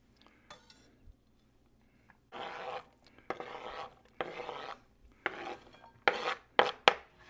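Knife strokes chop vegetables on a cutting board for a slow cooker beef stew, coarse chunks cut in uneven bursts of rasping cuts and taps, gaining pace toward the end, close and fairly quiet with no talk.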